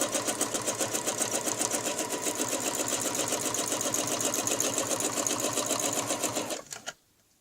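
A sewing machine stitches steadily along a quilting ruler, its rapid even needle rhythm loud and close for about six and a half seconds before it stops abruptly.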